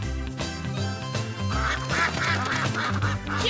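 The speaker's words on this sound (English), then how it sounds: "Do you need some food to feed the duck?" A cartoon duck quacks several times over bouncy children's music, the quacks short and nasal and mixed into the tune.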